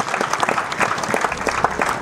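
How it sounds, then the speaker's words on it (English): An audience at a theology seminary graduation ceremony gives a round of clapping, a close, busy patter of many hands with distinct individual claps, steady for two seconds. "Can we give a clap offering once again?"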